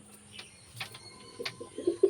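Pigeons coo softly nearby in a quiet setting, a few scattered low murmuring calls that grow more frequent and a little louder toward the end, with faint chirps in between.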